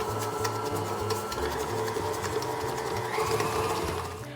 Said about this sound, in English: I always recommend starting the mixer slowly so that the sweetener doesn't poof out